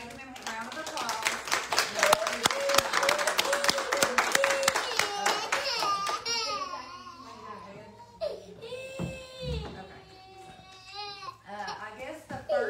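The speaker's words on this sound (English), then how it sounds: "So everybody give him a round of applause." Church congregation members clap briskly for several seconds amid voices, then the clapping fades into scattered talk and a crying child.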